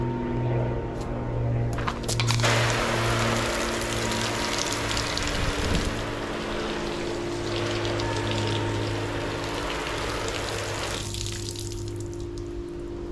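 Shower water sprays steadily onto a Filson tin cloth jacket, a dense hiss with a low pump-like hum, louder in the middle stretch as the spray hits the waxed fabric directly, then easing toward the end.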